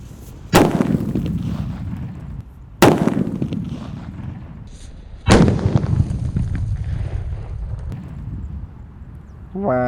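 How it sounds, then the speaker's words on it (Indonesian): Three loud, sharp blasts from a large paper-wrapped firecracker ring out a few seconds apart outdoors. Each one is followed by a rumbling echo that slowly fades. "di sini ada mercon buntelan kertas yang kedua guys"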